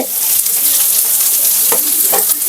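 Onion fries in a pan with a loud, continuous sizzle and crackle, close up and heard alone.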